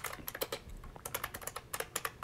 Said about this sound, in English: this is a switch that when you press it, it buckles the spring out